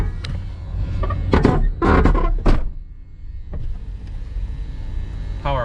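Power windows on a 1993 GMC 1500 truck that sat for ten years, several short motor whirs and thunks close by, clustered in the first half, with a faint voice present.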